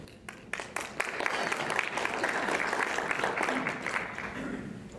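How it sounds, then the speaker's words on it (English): An audience at a public training session applauds, with a few scattered claps building quickly into sustained, moderately loud clapping that continues steadily to the end. "Certainly we don't need applause."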